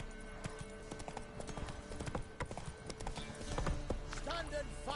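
Roach, the horse in The Witcher 3, gallops with quick, steady clip-clop hoofbeats set against dense game ambience, and a brief voice comes in near the end.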